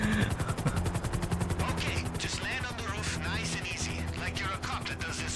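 A police helicopter in GTA Online chops steadily through a dense game mix, its rotor pulse running under music, gunfire-like effects and scattered voices.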